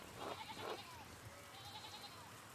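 Faint sheep bleats from the medieval-village game Pentiment, two short cries close together followed by a softer, drawn-out bleat over a quiet background.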